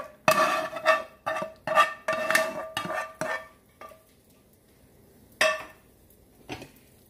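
A utensil scrapes and clinks against a pan while cooked grilled vegetables in tomato are stirred for ratatouille, giving a run of sharp metallic strokes followed by a pause and two more isolated knocks.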